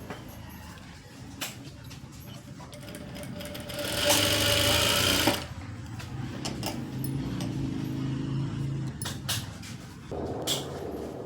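A sewing machine stitches a blouse in bursts of rapid whirring, one longer loud run in the middle, with quieter handling and shuffling noises between stitches, heard close and without talk.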